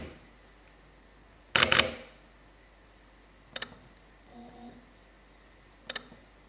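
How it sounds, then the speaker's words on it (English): Camera shutters of a Sony a7 IV and a Leica Q2 fire one after another: a loud, sharp double mechanical clack first, then quieter, brief double clicks spaced apart in a quiet room. "Just take a listen to the shutter sound of the Sony a7 Mark IV and then the Leica"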